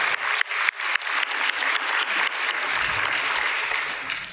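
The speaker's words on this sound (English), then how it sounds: "if you can give a round of applause to your parents and your families for all their support" Sustained applause from an audience at a student awards dinner, steady dense clapping filling the room from start to finish, with no voices rising above it.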